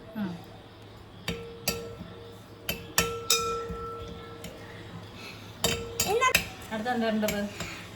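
Breadfruit pieces for a Kerala-style roast are stirred in a metal cooking pan, with sharp intermittent clinks and scrapes of a utensil against the pan, some ringing tones, and quiet voices in the background.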